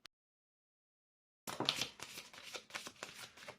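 A tarot card drawn from the deck makes a burst of close, crisp card riffling and slapping after a long silence. The brisk rustles last about two seconds, with no voices.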